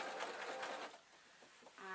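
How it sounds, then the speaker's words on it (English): A sewing machine stitches binding tape onto a jacket sleeve with a steady, close mechanical whir that dips briefly and then resumes. "I'm allowing the machine to pick up slightly more at the bottom of the fabric, which is the sleeve"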